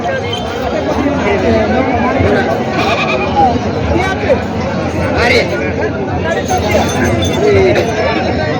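Native goats bleat repeatedly amid a busy crowd at a large goat and sheep market in Parbhani, with people chattering and talking all around in a noisy outdoor gathering.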